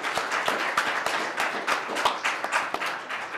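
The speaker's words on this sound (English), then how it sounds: "A round of applause." Audience applause at the close of an International Women's Day alumnae panel, a steady, fairly close wash of many hands clapping with sharp individual claps standing out, continuing evenly throughout with no talking.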